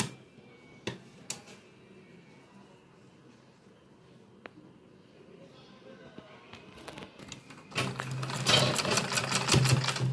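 A sewing machine stitches a vegetable organiser bag, starting quiet with scattered ticks and clicks, then running loud and steady in a fast mechanical whir for the last couple of seconds.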